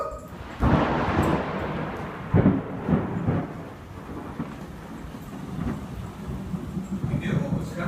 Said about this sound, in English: We knew what was coming after us, didn't we? That storm, Brett?